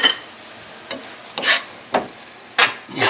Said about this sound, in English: mix the bacon pieces in with the cabbage, the onions, the potatoes